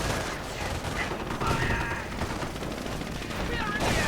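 Gunfire in a WWII strategy video game rattles in rapid bursts of shots, moderately loud beneath a busy battle mix, with scattered higher tones overhead.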